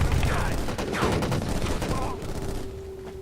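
Rapid gunfire in a firefight in the shooter game Black on Xbox One, dense crackling shots packed together over the whole stretch, with a voice-like tone near the end.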